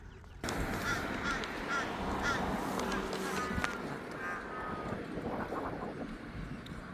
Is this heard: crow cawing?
yes